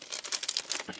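A sealed wrapper on a twenty-year-old unopened Godzilla trading card pack crinkles quietly and briefly as it is opened, with close, faint rustling.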